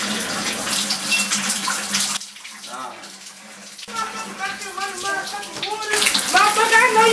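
Water running from a tap inside a house, a loud gushing stream that breaks off briefly and then resumes, with people talking over it.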